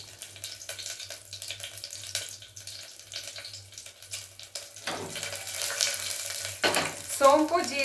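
Bay leaf, marathi moggu, star anise, cinnamon and cloves fry in hot oil in a pressure cooker for chicken biryani, a soft low sizzle with intermittent stirring clatters that grow louder toward the end.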